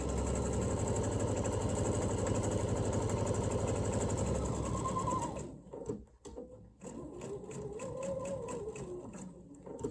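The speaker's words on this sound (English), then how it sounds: "and let's sew the other side." Sewing machine stitching fabric for a jar lid opener, running steadily for about five seconds, then stopping briefly before restarting in short bursts and settling into another steady stitching run.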